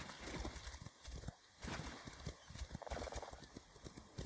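Horses in The Elder Scrolls Online clop along with faint, irregular hoofbeats and soft scuffs over quiet game ambience.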